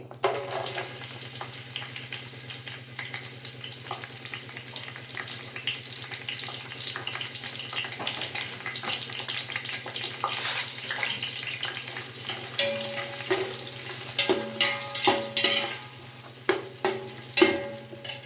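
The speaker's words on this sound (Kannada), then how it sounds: "ಈರುಳ್ಳಿ ಚೆನ್ನಾಗಿ ಫ್ರೈ ಆಗಲಿ" Onions fry in oil in a pan for vegetable biryani, giving a steady hiss of sizzling with occasional sharper crackles and stirring clatter toward the end, and no talking.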